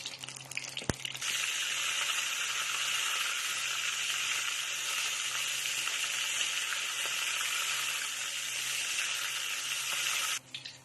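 Salted mackerel frying in hot oil: a steady, loud, dense sizzle that holds evenly for about ten seconds, with a sharp tick near the start before the fish settles into the crackling oil.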